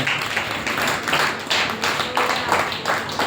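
A church congregation clapping along to a live worship song, steady rhythmic hand claps blending into a dense wash of sound with music underneath.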